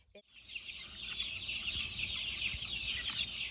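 Baby chicks in a brooder made from aluminum stock tanks, peeping continuously in a dense high-pitched chorus after a brief thump at the start.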